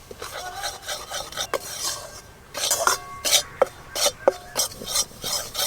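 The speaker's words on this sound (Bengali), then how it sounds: "ঘি দিয়ে ময়দা আমি ভালো করে ভেজে নেব" Flour being fried in desi ghee in a pan while a spoon scrapes and stirs it, giving repeated rasping strokes and metallic clinks over a soft sizzle, close up with no talk.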